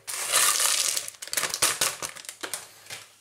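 Dry block of hot instant noodles is crushed and broken into pieces by hand, giving a loud crinkling, crackling burst followed by a series of sharp, irregular snaps close up.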